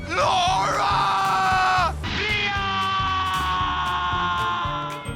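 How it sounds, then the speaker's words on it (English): A woman's long, loud, anguished scream from the film Sleeping with the Enemy breaks off and gives way to a second sustained cry over a pulsing low musical score. "Oh, they kept the scream."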